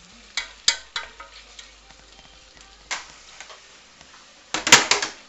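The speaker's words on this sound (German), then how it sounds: "Und hier mache ich gerade Schinken." Ham frying in a pan for spaghetti carbonara in a home kitchen, a soft steady sizzle broken by sharp clicking and scraping taps of a utensil against the pan, with a louder cluster of clatter near the end.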